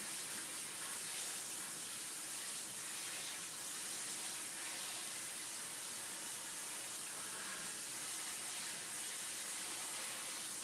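Water running from a tap while an item is rinsed, a steady faint hissing flow that continues unbroken throughout, with no talk.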